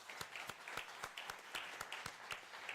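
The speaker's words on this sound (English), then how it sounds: "One round of applause for them as well." An audience claps together at a ceremony, dense steady applause with crisp hand claps pulsing evenly throughout, heard fairly faint and at a distance, with no voices over it.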